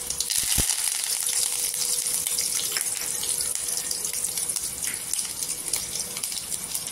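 Curry leaves drop into hot oil with mustard seeds and garlic for a Marathi kantorli bhaji, giving a steady, dense sizzle that fills the whole stretch at close range.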